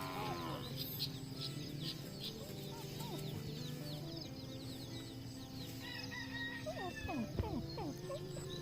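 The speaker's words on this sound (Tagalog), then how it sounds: "May mga manok." Chickens and roosters cluck and crow on a rural farm in the Philippines, with faint repeated calls scattered over a low background hum and a louder burst near the end.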